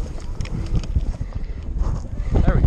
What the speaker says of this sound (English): I apologize for this wind too. It's pretty nasty out here.